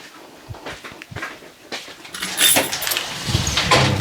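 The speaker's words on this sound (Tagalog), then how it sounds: "Buksan ko man na yung pinto. Naiwan niya yung susi eh." Keys jangle and click in a lock, then a door is opened with a louder rattling and scraping that continues to the end.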